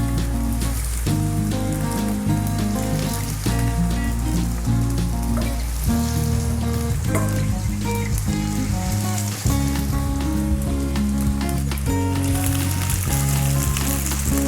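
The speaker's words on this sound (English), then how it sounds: "When you're frying your chicken, make sure that the fire is on low heat so that it doesn't burn." Chicken frying over low heat in extra virgin olive oil, giving a dense, continuous close sizzle and crackle that holds steady throughout, with music playing over it and no talk.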